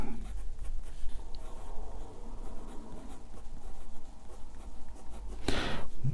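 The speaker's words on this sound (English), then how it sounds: "I'll write with it unposted to begin with, so you can get an impression of how it writes." A Sailor Lecoule Rose Quartz fountain pen with a fine steel nib scratches steadily across paper, unposted, in soft continuous strokes close to the ear, with a brief louder rustle near the end.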